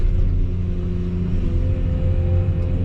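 The engine of an off-road truck rumbles steadily at a constant pitch while driving on a farm, a close, moderately loud hum with no talk over it.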